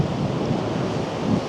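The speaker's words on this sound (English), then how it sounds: "the waves down there are even bigger." Ocean surf pounds the shore at Navarre ahead of a hurricane, a dense, loud roar of waves mixed with gusting wind buffeting the microphone, continuous throughout.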